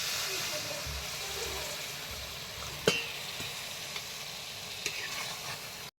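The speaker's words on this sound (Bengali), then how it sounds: "মাংস কষিয়ে নিয়েছি এবার জল দিয়ে দিচ্ছি" Water goes into a hot pan of sautéed meat, giving a steady hissing sizzle with a sharp clink midway and a few lighter knocks.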